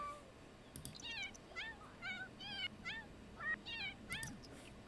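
A cat meows repeatedly in The Sims 4, a string of short, rising-and-falling calls spread evenly over a few seconds. The meows sit close and clear above a soft ambient game background.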